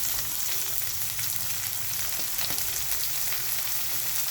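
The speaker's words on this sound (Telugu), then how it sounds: "ఈ ఉల్లిపాయలు, పచ్చిమిరపకాయ ముక్కలు 1 నిమిషం వేగిన తర్వాత దానిలోనే క్యారెట్, బఠానీలు వేసుకుంటే బాగుంటుందండి" Sliced onions, green chillies, carrots and peas fry in a hot pan for upma, giving a dense, even sizzle with faint crackles throughout and no voices.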